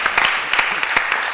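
A crowd claps steadily, a dense wash of hand claps with no pause, fairly loud and close.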